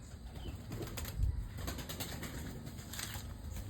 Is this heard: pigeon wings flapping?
yes